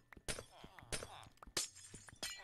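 Minecraft glass blocks shattering one after another, four or five crisp, close breaking bursts in a quick irregular rhythm.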